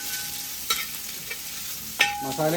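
Onions sautéing in a pan for a Kerala-style kolli (tapioca) and boti dish, a steady close sizzle with a few scraping stirs of a spatula against the pan, alone with no talk.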